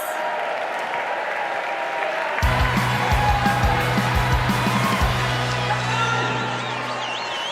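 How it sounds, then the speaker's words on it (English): Loud applause and cheering from a concert-hall audience at a Northern Ireland music awards show in Ulster Hall, welcoming a radio presenter onto the stage. The clapping is sustained and fills several seconds, with whoops over the top. "Give him a big round of applause."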